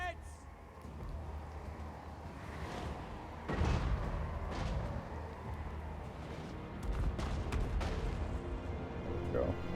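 Great cannon artillery fire in a Total War: Warhammer 2 battle, with a heavy booming shot standing out from a dense, continuous wash of battle noise while someone talks over it.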